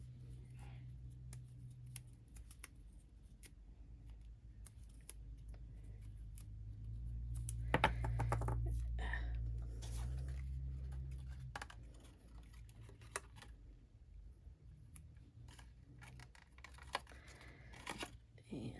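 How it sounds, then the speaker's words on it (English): Tape being pulled and pressed onto the front edges of a handmade paper treat basket, giving soft crinkling rustles and scattered light taps alongside low background hum, with a louder cluster of handling noise partway through. "I'm going to put some tape on these front parts of each side"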